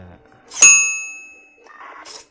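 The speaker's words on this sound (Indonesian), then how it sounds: "bel PTT manual ini ketika kita memijit switch PTT, belnya berbunyi" A manual PTT bell built for a radio rig, pressed by its switch, gives a single bright metallic ding that rings out and decays slowly, followed by a faint brief rattle.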